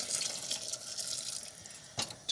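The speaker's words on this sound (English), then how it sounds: "So I'm now adding enough water" Water is poured into a pot of Irish stew with meat, carrots and lentils; a soft, close trickle and splash runs steadily, with a brief louder splash near the end.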